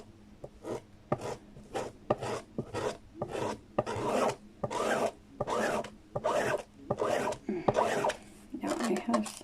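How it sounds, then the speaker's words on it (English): Rhythmic rasping strokes as a squeegee drags paint across a stencil laid on a metal tray, about a dozen close, even passes in steady succession. "And then we're going to take our squeegee."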